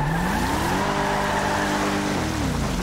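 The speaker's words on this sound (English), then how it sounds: "Turn the engine back on." A police car engine in a video game runs steadily, its droning tone climbing and settling as it revs, loud and continuous with no talking.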